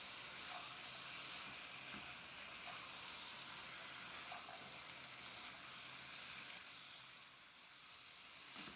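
Green beans fry in spiced masala in a pan, giving a steady, soft, continuous sizzle with faint crackles and no talk over it.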